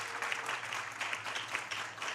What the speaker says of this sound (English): Give these guys a round of applause, the blue shirts